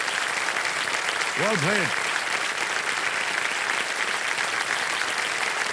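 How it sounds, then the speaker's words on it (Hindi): A studio audience on the quiz show KBC applauds in a continuous, dense wash of clapping, with a man's brief spoken words heard over it. "तालियां बजती रहें इनके लिए"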